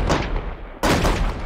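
Fireworks explosions blowing up a treehouse in the video game Feuerwerk Simulator. Two loud, close booms follow each other less than a second apart, each a sharp crack trailing into a rumbling decay, with no talk.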